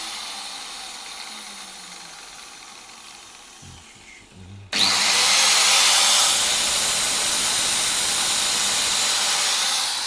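A grinder sharpens a tungsten electrode for argon TIG welding. Near-quiet at first, then it abruptly bursts into a loud, steady, close hissing whine that holds to the end.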